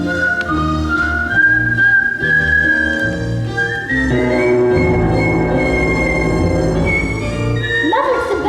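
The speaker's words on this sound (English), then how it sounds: "You show them. You whistle." Someone whistles a cheerful, steady melody in a school stage production, with sustained tones over a continuous musical backing.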